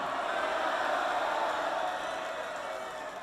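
A rally crowd at a political party launch event roars a sustained, loud cheer that fills the space evenly for a few seconds before tapering off slightly.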